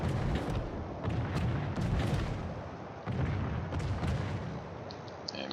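Naval gunfire in World of Warships, with a dense barrage of booming shots and explosions rolling one into another and a brief pause midway before the volleys resume.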